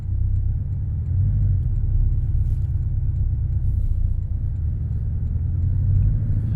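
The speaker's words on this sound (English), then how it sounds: "I like to hear this little 4-cylinder." The four-cylinder engine of a Porsche 718 Cayman base model drones as a deep, steady low rumble heard from inside the car, rising and falling gently with throttle and no voices.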